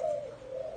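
Doves coo close by, two soft, low, rounded calls separated by a short gap, clear against a quiet background.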